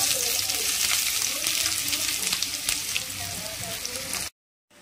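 Chopped onion fries in a pan with bay leaves for a dry chicken dish made with spring onion and capsicum, a close, dense sizzle with intermittent stirring scrapes, ending abruptly in silence.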